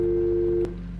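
A telephone busy signal in the video game The Guest, a steady loud tone held for over half a second and then cut off, leaving a quieter hum.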